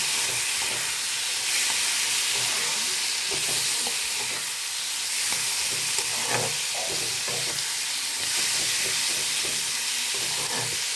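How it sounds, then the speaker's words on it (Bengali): Katla fish fat spitting in hot oil with cumin and turmeric powder in a pan, a continuous loud sizzle with intermittent stirring scrapes and bubbling pops, no speech. "এবার আমি দিয়ে দেবো মাছের তেল ভালো করে ছাড়ানো"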